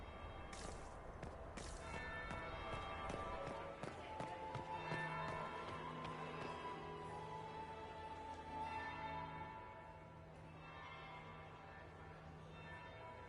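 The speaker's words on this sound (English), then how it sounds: "That would be the second bell." A church bell rings in the Dragon Age video game, its tolls layered with light tapping steps and game ambience, moderately quiet and sustained throughout.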